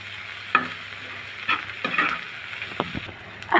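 Cabbage bhaji is stirred and fried in a pan, with a steady sizzle broken by several sharp scraping stirs of the spatula, close and fairly loud, with no talking.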